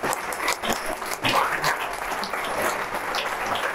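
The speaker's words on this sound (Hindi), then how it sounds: "सभी लोग फ्री हैंड ताली से स्वागत करेंगे" Crowd applause greets a guest at a coding competition inauguration in a college hall, a continuous wash of clapping from a sizeable audience with some murmuring underneath.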